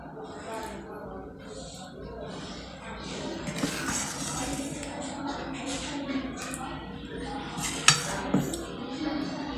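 Cashew curry (kaju kari) being served from a pan into a dish, with metal utensils clinking and scraping against cookware in irregular bursts, close by, while someone talks over it.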